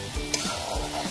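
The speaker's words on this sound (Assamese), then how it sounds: "চিকেন দি ফ্ৰাই তেলত" Chicken pieces fry in hot oil, giving a brief, steady sizzle with soft crackling and a stirring sound.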